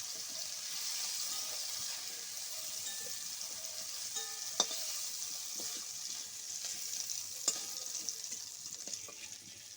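Prawns frying in hot oil while being turned to brown both sides, a steady close sizzle with a few sharp clicks of a utensil against the pan and no talking.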